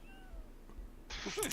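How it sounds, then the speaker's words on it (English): A short, nasal meow from an undead pirate cat in the video game Age of Wonders 4 comes over faint game ambience, brief and fairly close. "undead pirate cats, and they look mangy and awful"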